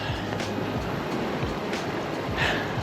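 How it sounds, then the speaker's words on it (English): Wind gusts at a seashore fishing spot, a steady broadband rush with low buffeting rumbles against the microphone and waves in the background; no speech. "The wind is freezing"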